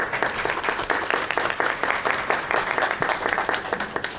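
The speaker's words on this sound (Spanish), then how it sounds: "les damos la más cordial bienvenida y un fuerte aplauso" A seated audience at a book presentation welcoming panelists with a strong, continuous round of applause, close and fairly loud, with individual claps audible in a brisk steady rhythm throughout and no speech.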